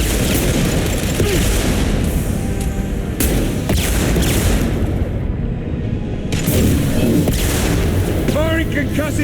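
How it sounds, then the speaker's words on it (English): Mass Effect 2 combat as the Overload power is deployed: a loud, unbroken wash of gunfire, bursts and impacts, with sharper crackling hits recurring over the whole stretch. "Overload deployed."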